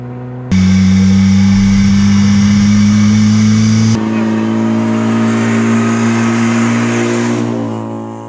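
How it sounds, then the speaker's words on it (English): A 500cc E-Rex one-stroke prototype engine runs in a Mazda MX-5. It bursts loudly into a strong buzzing drone, shifts pitch partway through as the revs change, and then tapers off slightly. "A prototype of the E-Rex engine has been created and shown running in an MX-5."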